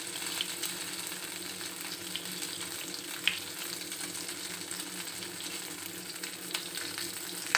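Liver kebabs fry in a pan of oil with a steady, close sizzle that fills the whole stretch, marked by a few faint pops and clinks.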